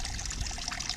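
Water trickling and splashing steadily in a small garden fountain driven by a cheap solar pump, a continuous close-up pour with no voices.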